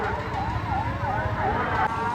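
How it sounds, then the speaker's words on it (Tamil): An ambulance siren wails with a rising and falling tone at the Alanganallur jallikattu bull-taming event, loud and close against a crowd rumble. "ஆம்புலன்ஸ் தூக்கிட்டு போய்கிட்டு இருக்கு பின்வாடியிலேருந்து"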